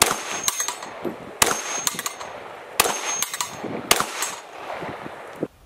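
Glock 17C ported handgun fires 124 grain ammunition, four or five sharp cracks spaced about a second or more apart, each followed by metallic clatter and echo.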